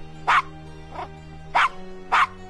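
A small dog in the Gabriel Knight game gives four short, sharp yapping barks in an uneven rhythm, close and clear over a quiet background hum.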